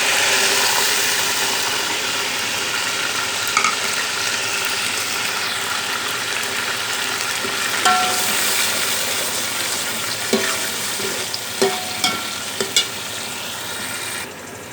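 Spices fry in oil and are stirred in a pot for matar pulao, a steady loud sizzle with occasional sharp clinks and scrapes of the spoon near the end, close and continuous.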